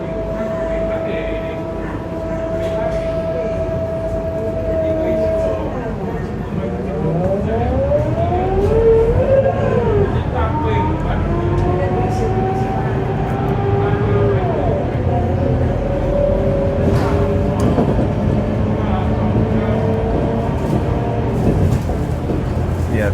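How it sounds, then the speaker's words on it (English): A Scania K230UB city bus meeting Euro IV emissions, running in Singapore, with a steady engine drone and rising and falling gear whines as it accelerates and shifts, heard from inside amid constant rumble and some background noise. "definitely sounds like a bus from the early 2000s or even the 90s"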